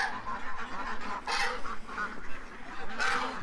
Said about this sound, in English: the geese are coming towards me because the headlamp